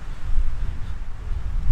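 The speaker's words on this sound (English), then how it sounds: "It went from sunny to rainy to now windy." Gusty wind on a Hawaiian mountain trail near Honolulu buffets the microphone with a low, uneven roar that swells and dips over a couple of seconds, close and fairly loud, with no voices.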